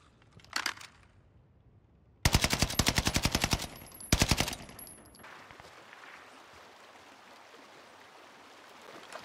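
Rapid bursts of automatic gunfire from a teammate in a battle royale shooter game, a short burst followed by two longer loud rattling volleys, then quieter ambient noise.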